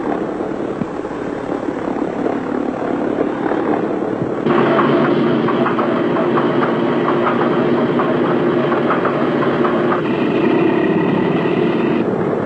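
Aircraft number 2 engine starting up, a loud rumbling engine roar that steps up in intensity partway through and holds steady without speech.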